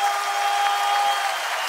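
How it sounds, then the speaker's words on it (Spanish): An audience at a freestyle rap battle claps in a dense, continuous burst of applause, with a steady tone ringing underneath. "¡Fuerte aplauso!"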